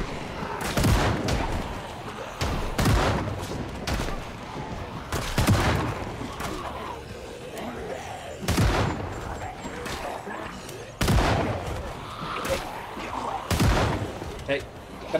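Gunfire in the zombie survival game Project Zomboid, loud single shots in an uneven series of sharp cracks spaced a second or two apart, with voices talking underneath between the bursts.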